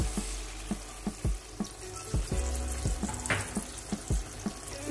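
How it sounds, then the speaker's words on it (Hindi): Chilli chicken sizzles in a pan as about five tablespoons of water go in after soy sauce and black pepper. A steady frying hiss runs throughout, broken by sharp clicks and pops at a fairly regular pace. "और ये 5 टेबल स्पून के करीब पानी है।"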